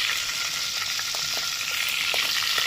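Fish pieces frying in hot oil, a steady bright sizzle that runs unbroken from start to finish, close up and fairly loud.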